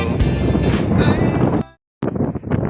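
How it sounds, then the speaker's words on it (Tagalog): Heavy wind buffeting the microphone in loud rumbling gusts on a high island viewpoint at Gigantes Islands, Philippines, briefly cutting out before the roar resumes. "Ang lakas ng hangin."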